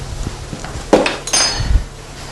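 Spoon working a teaspoon of flour into a dish in a pan while cooking gratinéed courgettes with fromage blanc, giving a few close clinks and scrapes of utensil against cookware over roughly a second and a half, with no talking.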